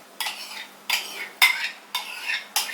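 A spoon scrapes and stirs yogurt and spices into minced meat keema in a pan, five evenly spaced, close stirring strokes with a faint sizzle between them.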